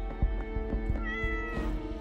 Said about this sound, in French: il y a un chat.